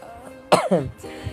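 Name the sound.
coughing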